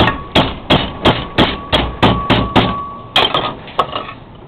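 A bent metal clutch retaining clip for a Nuffield tractor is struck by a hammer while held in a vise: about a dozen loud, sharp, ringing metallic blows in a steady rhythm, then a short pause and a few more strikes.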